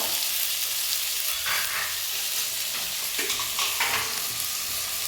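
Chopped small onions and a couple of curry leaves sizzle and crackle steadily in a hot pan, a close, continuous frying hiss with stirring and no talking.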